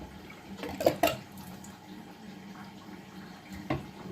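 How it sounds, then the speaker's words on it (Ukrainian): Water is drawn through a hose from a basin into a Resun EF-1200U aquarium filter, heard as quiet gurgling and a few sharp splashy bursts close by, with soft trickling between them. "Зараз я беру засмактую воду через оцю шлангу з тазіка."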